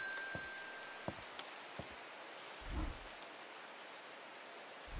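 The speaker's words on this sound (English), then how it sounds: "we are in the steampunk London, where 'tis always raining" Steady rain patters on surfaces in a steampunk London scene from the video game Strange Horticulture, soft and continuous, with a few sharper drips and brief chimes, no speech.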